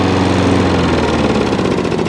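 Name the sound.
Hayter 56 lawn mower engine running with drive engaged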